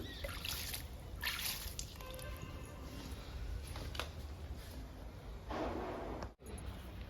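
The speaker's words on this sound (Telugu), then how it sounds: "ఈ రెండు మొక్కలకు కూడా ఇచ్చేద్దాము బుషీగా ఉన్నాయి అందుకని చల్లుతున్నాను" Liquid fertilizer sprinkled over two bushy purple heart houseplants, a soft continuous trickle and splatter close by, with brief louder splashes.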